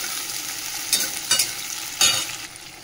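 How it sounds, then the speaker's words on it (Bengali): Chopped onion frying in a pan with a few prawns to follow, a steady sizzle with three brief stirring scrapes against the pan, close and alone without voices. "পেঁয়াজটা ভাজা হোক"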